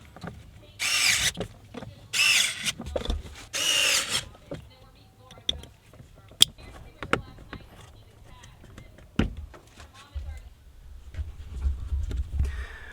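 Power drill driving screws while a blower motor is refitted in a Nissan NV1500 van, three short whirring bursts up close followed by scattered clicks and knocks of handling.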